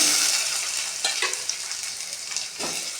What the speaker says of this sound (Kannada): ಸಣ್ಣ ಕೊಚ್ಚಿರೋ ಈರುಳ್ಳಿ, ಅದು ಸ್ವಲ್ಪ ಕೆಂಪಗಾಗಲಿ.